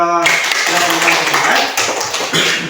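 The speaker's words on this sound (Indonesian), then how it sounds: "Tepuk tangan dulu buat" A classroom of students claps hands together in a dense burst of applause lasting the whole moment, close and loud, with a brief voice at the very start.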